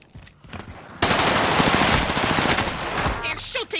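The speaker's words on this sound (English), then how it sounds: "They're shooting at me!" Sustained automatic gunfire from a Call of Duty: Modern Warfare match erupts after a quieter opening and rattles on loud and dense for nearly three seconds before trailing off, with a voice briefly audible near the end.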